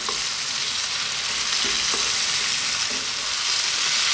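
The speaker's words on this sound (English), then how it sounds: "it's cooking down and wilting a little bit in the pan" Cabbage and potatoes frying in a pan give a steady, bright sizzle, with a few soft stirring knocks from a utensil scattered through it and no talking.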